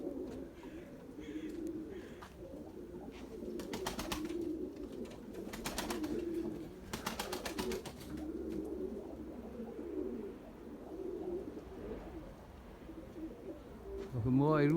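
Tumbler pigeons in flight outdoors, with soft cooing and bursts of wing flapping over a low background, and a voice rising sharply at the very end.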